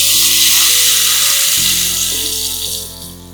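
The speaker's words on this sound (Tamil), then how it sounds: "இதோட நீர் விட்டுக்கலாம்." Ghee-fried spices in a pan sizzle loudly as water is poured in, a dense steady hiss that shifts abruptly midway, then slowly quietens, with no talking.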